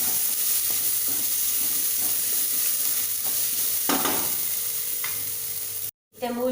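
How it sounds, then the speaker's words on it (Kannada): Onion fries with ginger garlic paste in a pan, a close, loud, continuous sizzle with occasional stirring scrapes, cut by a brief silence just before the end. "ಮೂಲು ಈರುಳ್ಳಿ ಎಡ್ಡೆ ಫ್ರೈ ಆಗ್ತದೆ"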